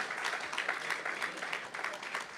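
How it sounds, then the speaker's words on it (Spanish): Audience applause at a church service, a soft, steady patter of many hands clapping at a distance, fairly quiet throughout with no voices standing out. "Denle 2 aplausos al Señor."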